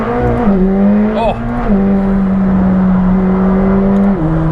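A McLaren 765LT accelerates hard on the autobahn, heard loud from inside the car. A strong, steady engine tone climbs with rising speed, broken by quick dips at each gear shift.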